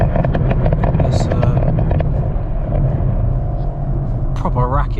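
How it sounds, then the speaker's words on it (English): Rumbling engine of a 440 bhp BMW M140i Shadow Edition heard from inside while driving, a steady loud drone with a driver talking over it and a brief higher-pitched rev near the end. "proper racket this car makes."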